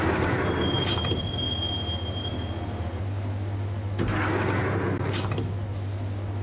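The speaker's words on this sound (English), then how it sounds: "the train doors had already shut behind me, and I was in for the ride" A train riding along the rails in the video game Max Payne, a steady close rolling rumble with a low hum, high metallic wheel squeals and periodic rhythmic clacks over the track joints.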